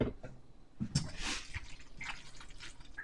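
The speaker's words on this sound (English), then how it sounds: "I'm going to add some milk. I happen to have skim milk." Skim milk trickles and splashes softly into a pan of butter on a stovetop burner turned down to low, a faint liquid pour with small drips and no voices.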